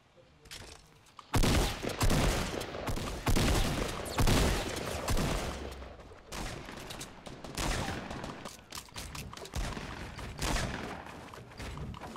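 Bursts of loud gunfire in the Fortnite Battle Royale video game, several sharp volleys with short gaps, close and forceful, with players talking faintly in between.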